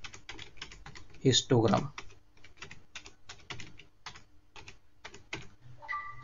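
Rapid clicks on a computer keyboard come in quick bursts and pauses as code is typed into MATLAB, close and crisp, with someone speaking briefly over the keystrokes.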